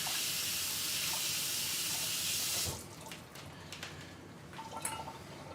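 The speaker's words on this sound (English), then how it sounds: "let me just wash my hands off here" Hands rinsed under a running kitchen tap, a steady hiss of flowing water that stops partway, leaving quiet handling clatter and faint room sounds.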